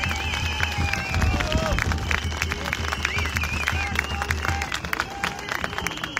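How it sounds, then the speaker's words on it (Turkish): Outdoor rally crowd at a gathering of villagers in the Kaz Mountains, clapping and cheering in a dense continuous wash, with a low rumble and crowd noise underneath throughout. "Direnen köylülere kocaman bir alkış."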